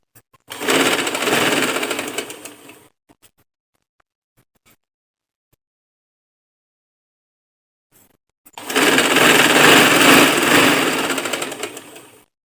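A sewing machine stitches lace onto a girl's gathered frock, running loud and close in two long bursts separated by several seconds of near silence.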